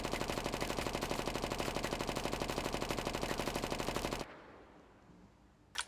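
Submachine gun with a 50-round magazine in a shooter video game, firing one long rapid burst of evenly spaced shots for about four seconds, then stopping abruptly into near silence with one faint click at the end.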